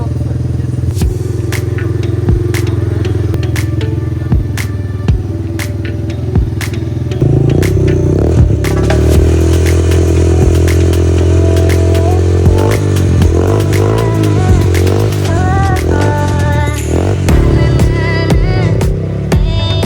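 An off-road ATV or dirt bike engine roars close by on the Traxas off-road track at Jadayu, Nilamel, Kollam, droning loudly throughout and climbing into repeated revs and gear changes as it works the course.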